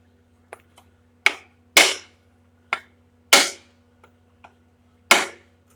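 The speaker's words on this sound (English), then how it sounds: "Kind of get it hammered down in there nice." Sharp metallic hammer blows ring out irregularly as metal is hammered through a wood block on a truck rear axle, several loud strikes with fainter taps between, each decaying quickly, close by with a low steady hum underneath.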